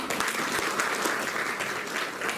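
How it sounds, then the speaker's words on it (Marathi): Dense, steady applause from a seated audience at a community meeting in Maharashtra, many hands clapping together at an even level throughout without a break. "त्यानंतर ॲडव्होकेट सारिकाताई यांच्यासाठी जोरदार टाळ्या वाजवा"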